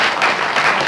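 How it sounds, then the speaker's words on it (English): A round of applause from the audience at a 1996 school campus quiz, King Edward versus Grove, dense steady clapping from a crowd. "a less feeble round of applause"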